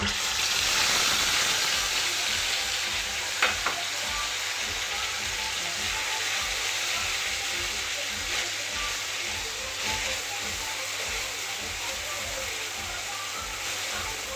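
Ground masala spices frying in a pan for a sprouted-legume curry, a continuous dense sizzle holding steady throughout, with a couple of faint clinks and no talking.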